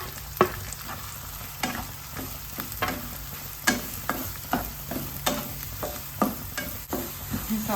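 Two sliced onions fry in hot oil while a spoon stirs them around the pan, with steady sizzling broken by repeated scraping strokes at an irregular rhythm, close and moderately loud, no talking.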